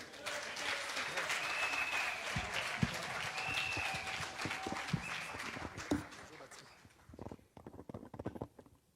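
Church congregation applauding and cheering in a loud, dense wash of clapping that fades out toward the end, leaving a few scattered claps.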